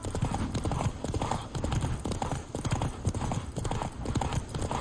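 Horse hooves clip-clop steadily in The Witcher 3: Wild Hunt, a brisk rhythmic trot on hard ground, loud and continuous, with game ambience underneath.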